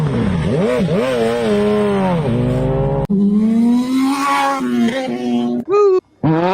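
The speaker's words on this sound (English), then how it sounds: "we need a burnout." A car does a burnout, its engine revving hard and its tires squealing in long wavering screeches that rise and fall, loud and close, with the sound cutting out briefly near the end.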